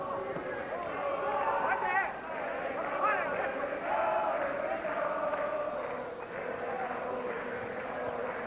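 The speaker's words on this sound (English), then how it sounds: "The crowd bursting into song" A boxing crowd in a Boston arena breaks into loud collective singing and chanting during a middleweight title fight, a broad, sustained roar of many voices that swells and dips.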